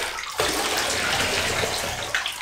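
Water pours steadily from a tap or jug over a dog during a bath, a continuous splashing rush that begins after a short quiet moment and runs to the end, close and fairly soft.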